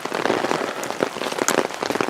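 Steady rain falls outside on a tiny-home building site, a dense, even patter of drops hitting surfaces close by with no voices.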